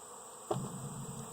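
Honey bees buzz at an opened hive, a steady faint drone with a soft thump partway through and a low hum continuing after it.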